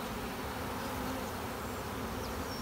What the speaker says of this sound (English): they're also making a bit of a roaring sound, which would infer that they're queenless